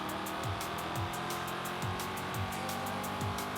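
A Mustang races along a dirt trail in Forza Horizon 5, its engine roaring steadily with repeated rising rev surges and quick shifts about every half second.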